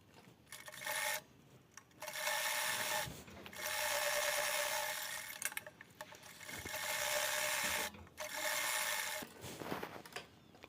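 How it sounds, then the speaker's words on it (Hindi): A sewing machine runs a top-stitch seam along a handbag strap in several bursts of fast, rattling stitching, separated by brief pauses and handling clicks, up close with no talking. "एक टॉप सिलाई और लगा देंगे।"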